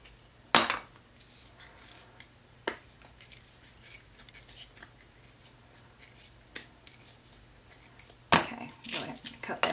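Wooden spoons are cut down to length with scissors, giving a few sharp, isolated snips and clicks spaced across a quiet background.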